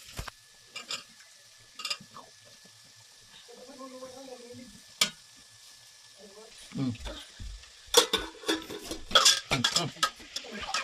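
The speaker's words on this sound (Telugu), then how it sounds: "ఇలాగా మధ్య మధ్యలో కలుపుకుంటా ఉండాలి. మాడిపోకుండా ఇలా మధ్య మధ్యలో కలుపుకుంటా ఉండాలి." A utensil scrapes and clinks in a pan while chilies, onions and tomatoes sizzle softly for a homemade chicken curry, with intermittent stirring clatter growing busier toward the end and someone speaking in between.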